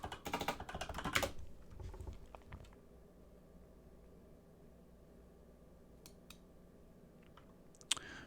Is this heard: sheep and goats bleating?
no